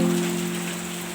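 Rain falls steadily in a dense, even hiss, with a low steady hum underneath and no voices.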